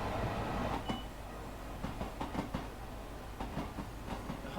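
Simulated Long Island Rail Road train from Train Sim World 2 running along the track, with a steady rolling rumble and repeated rhythmic clicks of wheels over rail joints at moderate volume, no voices.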